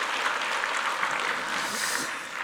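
Applause for a church choir at a Sunday worship service, a dense, steady wash of clapping filling the room throughout without a break.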